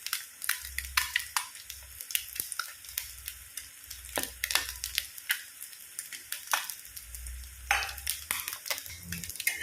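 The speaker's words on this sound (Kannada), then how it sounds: "ಈ ರೀತಿ ಫ್ರೈ ಮಾಡಿ, ಎರಡು ಸೈಡ್ ಕೂಡ ಒಳ್ಳೆ ಫ್ರೈ ಆಗಲಿ." An egg fries with masala in a pan, a soft steady sizzle broken by repeated scraping and stirring strokes and low bumps of the utensil against the pan, close and moderately quiet with no talk.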